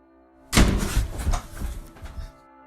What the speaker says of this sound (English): the door, which is opened into the bedroom, slowly swings closed before slamming shut